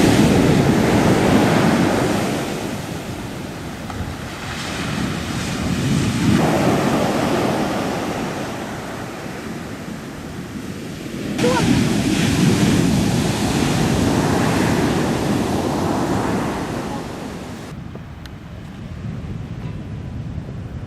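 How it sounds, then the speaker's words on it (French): Ocean waves rolling onto the beach at Nazaré, Portugal, a steady, loud surf roar that swells and recedes in long surges, with wind buffeting the microphone and no voices. "Nazaré est aussi réputé pour ses plages, les vagues."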